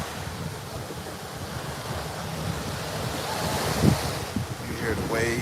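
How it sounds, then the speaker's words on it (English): Ocean waves washing onto the shore at Pattaya, Thailand during a morning walk, a continuous loud surf roar with wind buffeting the microphone and a swell building near the end. "You hear the waves."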